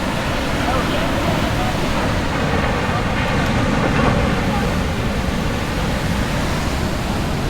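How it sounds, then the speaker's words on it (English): Big, wild ocean waves rolling in at Keawaʻula Bay on Oʻahu, a loud continuous roar of surf buffeted by wind noise on the microphone, steady throughout with no clear breaks. "I think the reason is all these insane waves we have today"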